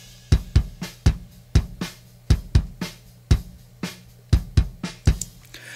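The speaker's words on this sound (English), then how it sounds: "Let's go to the bass drum and solo it up" A lone kick drum thumps in a steady repeating pattern, punchy and close, with paired hits recurring at a moderate tempo and nothing else playing.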